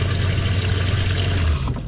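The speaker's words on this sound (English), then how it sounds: "So this operates off of the freshwater tank that's underneath, and it operates just like a kitchen faucet." Water from the hand-pumped faucet of a teardrop trailer, fed by its freshwater tank, pours in a steady close rush that cuts off near the end.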